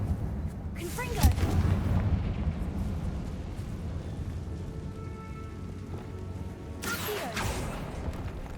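The Confringo blast spell in Hogwarts Legacy fires off as a sharp burst, followed by a rumbling, crackling explosion that decays over several seconds, with a second blast-like burst near the end.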